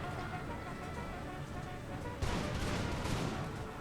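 Cannon volleys from an Empire: Total War battlefield rumble at a distance, faint and continuous, with a sharper burst of fire roughly midway.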